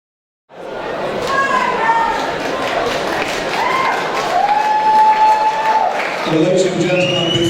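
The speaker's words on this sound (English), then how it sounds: "The crowd literally applauding on their feet." A fight crowd at a Lion Fighting Championships women's bout applauds and cheers on its feet after the final bell, a loud sustained roar with whistles and shouts rising over dense clapping.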